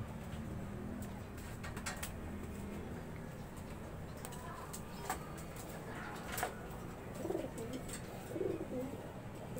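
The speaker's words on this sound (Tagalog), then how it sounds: "Mga pansout na kalapate yan." Pigeons in a loft give soft, low cooing calls, faint and intermittent over a steady background hum, with a few brief clicks and rustles nearby.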